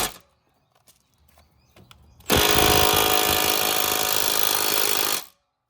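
A blade nut on a John Deere mower deck spindle is driven tight with a power tool, heard as a few quiet clicks and handling noises, then a loud, continuous buzzing whir lasting about three seconds before stopping abruptly.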